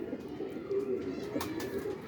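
Lal Tufan breed pigeons coo softly nearby, low throaty murmurs repeating over quiet background noise.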